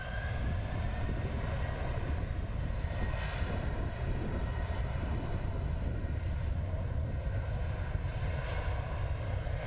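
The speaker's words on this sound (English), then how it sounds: "This plane in Australia somehow tore up the runway when it started to take off" Airplane taking off on a runway in Australia, engines roaring in a steady, loud, continuous drone throughout.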